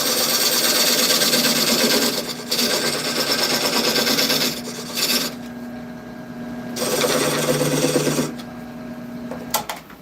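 A wood lathe turns a cherry wood bowl mounted on a screw chuck with a steady hum, as a cutting tool rasps against the wood in long passes that stop and start.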